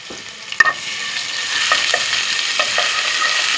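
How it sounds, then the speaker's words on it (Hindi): Garlic sizzles steadily in two spoons of hot oil for chicken chowmein, a close continuous crackling hiss with a few soft stirring scrapes and clicks, no voices. "दो चम्मच ऑयल में मैंने लहसुन डाला है"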